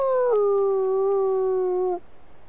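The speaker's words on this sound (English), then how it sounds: "By howling, you can mark it." A single long wolf howl from WolfQuest marks territory: a loud, clear, sustained tone that starts with a brief upward break, holds steady, then cuts off, followed by quiet.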